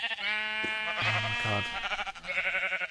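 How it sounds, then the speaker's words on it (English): Blocky Minecraft sheep bleat in a few wavering, harmonic cries, loud and close, with a voice exclaiming over the last of them. "I hear sheep."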